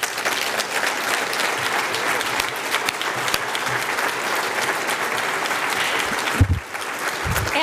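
Sustained, lively applause from an audience at a groundbreaking event for an engineering school expansion, dense clapping throughout with a brief dip near the end.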